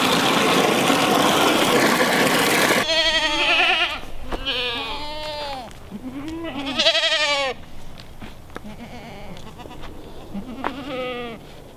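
Several goats on a farm bleat loudly and close by in a run of wavering calls, some overlapping, after a few seconds of steady rushing noise.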